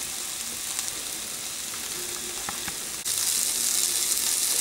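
Food browns in a pan with a soft, continuous sizzle, fairly faint and steady, growing a little brighter and louder toward the end.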